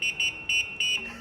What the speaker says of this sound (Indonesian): Kita tes klaksonnya ya. Seberapa kencang suaranya?